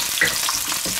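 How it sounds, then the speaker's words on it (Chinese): Sliced garlic and chili stir-frying in hot oil in a wok produce a loud, dense, crackling sizzle that holds constant, close and without voices. "拎起锅加入食用油，下入蒜片、辣椒，"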